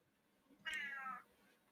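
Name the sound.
cat meowing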